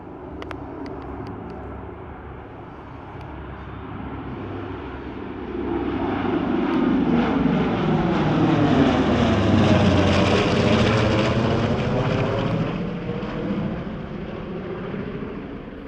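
A Lockheed Super Constellation piston airliner flies by at an airshow, its droning engines building from a distant rumble to a loud, close pass with a shifting, throbbing pitch before fading away.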